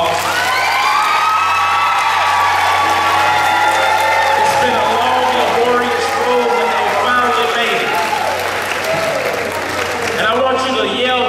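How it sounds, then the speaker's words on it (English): A crowd at a high school pre-commencement ceremony cheers and claps for graduation candidates, loud and continuous. A voice talks over the noise and shouts rise from the audience. "Could we give the graduation candidates a round of applause?"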